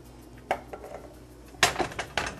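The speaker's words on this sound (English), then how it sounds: "And just simply stir it all in." A spoon stirring marinara sauce in a pot, a few soft scrapes and metallic clinks against the pot, close and quiet, no talk.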